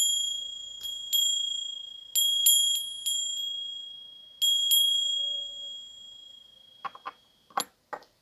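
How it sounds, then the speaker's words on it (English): A small bell rings several times in a slow, uneven series, each clear high ding decaying smoothly, followed by a few shorter, duller taps near the end; close and alone with no talk. "I'm going to ring this bell"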